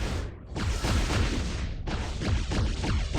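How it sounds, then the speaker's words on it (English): Immortal Hulk's hammer fist skill in a video game sets off a huge, nuclear-style explosion, heard as a loud, sustained, roaring blast that rumbles continuously with crackling debris. "We have something that kind of resembles a nuclear explosion type setup"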